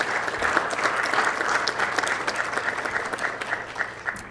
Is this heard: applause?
yes